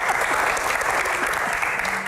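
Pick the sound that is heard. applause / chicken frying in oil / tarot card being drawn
applause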